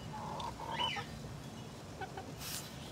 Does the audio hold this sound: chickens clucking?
yes